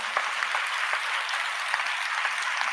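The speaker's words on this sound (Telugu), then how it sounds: "చప్పట్లు" A church congregation claps together, steady dense applause continuing throughout with no talking.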